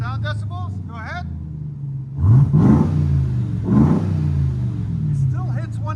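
A Ram TRX truck engine revs twice through a Vibrant exhaust, two loud swelling roars over a steady idle rumble, with people talking briefly before and after.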